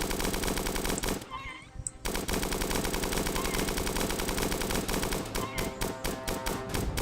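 Rapid automatic weapon fire in the 2014 beta of the video game Starbound, shooting at a creature on a ceiling: dense, loud bursts of repeated shots with a brief pause, then sharp rhythmic volleys toward the end.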